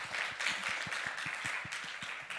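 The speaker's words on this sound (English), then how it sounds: "Please give a big applause to Professor Wong." Audience applause at the close of a public lecture on judgment in managing risk: a moderate, steady wash of clapping with faint rhythmic low thumps underneath, lasting a couple of seconds.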